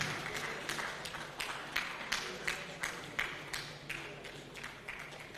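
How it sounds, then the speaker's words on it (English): Audience at a pharmacists' annual conference claps as a panelist takes his seat; a thin, sparse crowd applause with separate sharp claps in an uneven rhythm, fairly soft and a little distant. "Let the applause keep coming"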